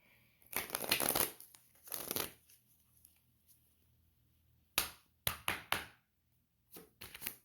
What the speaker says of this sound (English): we're going to just try proper shuffle.